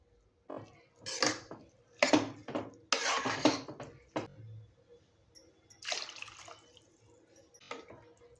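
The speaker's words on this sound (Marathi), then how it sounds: "मी हा दीड ग्लास पाणी ॲड केलेलं आहे" Water poured into a metal pot of masoor dal with spinach: splashes and a few clattering bursts of the pot, in uneven spurts with quiet gaps between them.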